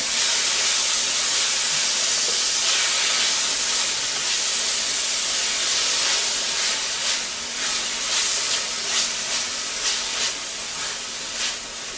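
Chopped tomatoes, added with seeds, hitting a hot oiled pan while making pizza sauce: a loud, continuous sizzling hiss close by that eases slightly toward the end, with no talking.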